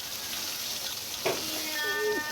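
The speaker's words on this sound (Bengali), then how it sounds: "এদিকে ইলিশ মাছ ভাজা হচ্ছে" Hilsa fish fries in a pan with a soft, steady sizzle and crackle, faint and close, with no talk over it.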